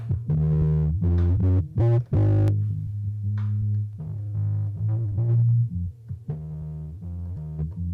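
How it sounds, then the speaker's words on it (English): A heavily distorted, gritty sample beat on an MPC Live 2 with a harmonic distortion effect, thick saturated bass tones and bright crunchy hits, loud and continuous with a few brief dropouts. "Let's go to harmonic distortion."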